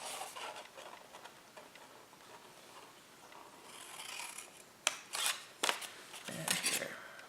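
Scissors cut paper for a diagonal-close box-in-a-box card, with faint snipping under quiet room noise and a few louder, crisp cuts near the end.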